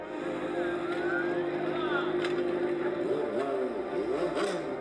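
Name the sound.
dirt bike engine during acrobatic riding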